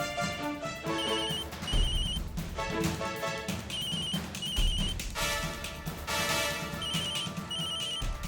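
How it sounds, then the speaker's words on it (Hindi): A telephone bell rings in repeated bursts, sharp and loud, over a busy background of dramatic music. "फातिमा भी का फोन"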